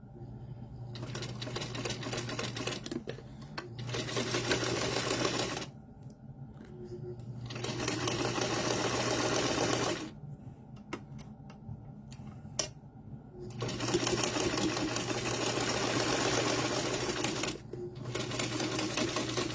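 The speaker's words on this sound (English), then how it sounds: "We're chain stitching." A sewing machine chain stitches quilt blocks in rapid, whirring bursts of several seconds each, separated by short pauses, with occasional soft talk in between.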